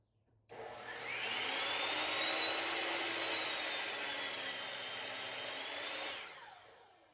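Miter saw powered from a Bluetti AC180 portable power station spins up with a rising whine, runs steadily for several seconds, then cuts off and winds down; close and fairly loud, no talk.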